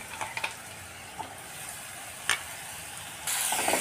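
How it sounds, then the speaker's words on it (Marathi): Garlic and green chili paste sizzles with onions in a pan while being stirred for a ridge gourd bhaji, a steady frying hiss with a few sharp spatula scrapes, growing louder near the end. "आता हा मसाला देखील आपल्याला यामध्ये व्यवस्थित परतून घ्यायचा आहे।"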